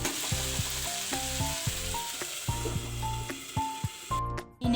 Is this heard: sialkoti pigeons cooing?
no